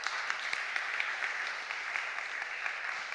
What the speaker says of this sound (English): Let's give Sitati a big round of applause as she comes up.